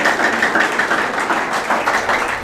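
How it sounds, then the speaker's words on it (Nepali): Audience applause welcoming a pastor onto a special 100th-episode TV program, a steady dense patter of many hands clapping throughout, fairly loud and close with no talk over it. "आउनुहोस् उहाँलाई हामी जोरदार तालीका साथ स्वागत गरौँ।"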